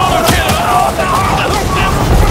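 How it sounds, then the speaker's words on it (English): Heavy autocannon fire in the Helldivers video game, booming shots mixed with explosions and battle noise throughout, loud and dense, with players' voices talking over it. "Oh my God, I got my auto"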